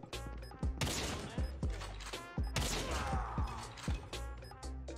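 Rapid bursts of gunfire from the mobile shooter game COD Mobile, a string of sharp, loud cracks repeating in quick succession over several seconds with crashing impacts between them.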